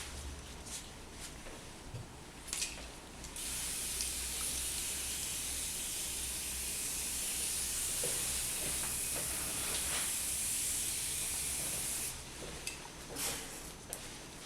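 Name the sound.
water spray rinsing the face during a peel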